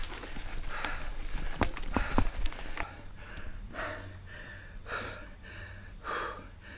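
Heavy, rhythmic panting from a mountain biker on a trail ride, with a few sharp knocks early on, then regular close breaths in and out, fairly quiet, with no talk.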